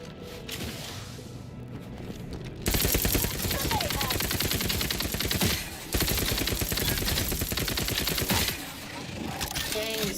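Submachine gun fire in The Outer Worlds 2: rapid automatic bursts rattle in two long strings separated by a brief pause, loud and close, with a quieter stretch of softer activity before the shooting starts.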